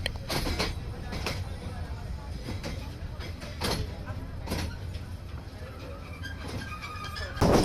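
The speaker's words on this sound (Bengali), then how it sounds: "গফরগাঁও রেলওয়ে স্টেশন ছাড়ার পর বেশ ভালো পরিমাণ গতি নিয়ে ছুটে যাচ্ছিল মোহনগঞ্জ এক্সপ্রেস ময়মনসিংহ রেলওয়ে জংশনের দিকে" The Mohanganj Express rolls at speed after leaving Gafargaon station, a continuous rumble from inside the train with rhythmic rail clacks and jolts throughout.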